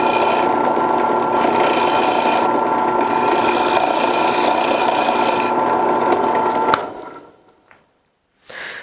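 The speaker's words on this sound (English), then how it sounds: "So now that I've got those drilled out" A power drill bores into wooden hand knobs with a loud, steady rasping grind that runs for several seconds, then winds down and stops, followed by a short scraping rub; no talk.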